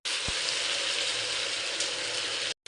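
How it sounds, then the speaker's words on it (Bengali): Spice paste with turmeric and salt frying in oil in a pan, a steady close bright sizzle running evenly throughout with a brief clink near the start, then cutting off abruptly near the end. "আমি মশলাটাকে এবার ভালো মতন কষিয়ে নেব।"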